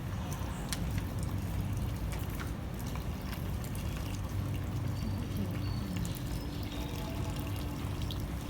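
Cornflour slowly poured into boiling water while being stirred, a continuous close watery pouring and sloshing with soft bubbling texture and scattered small clicks throughout.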